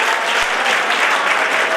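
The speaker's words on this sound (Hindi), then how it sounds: "एक बार जोर से तालियां" Loud, dense applause from a crowd at a college cultural event, a steady wash of clapping filling the short stretch without pause.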